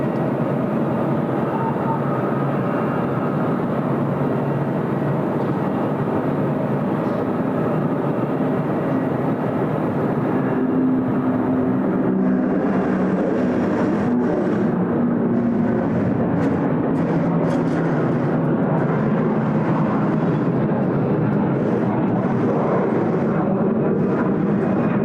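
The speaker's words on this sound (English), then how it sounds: "we've got the Xanadu just departing to Kuala Lumpur" A steady, loud roar of an airliner departing Sydney Airport for Kuala Lumpur, a broad rumbling wash of jet noise that persists throughout with no break.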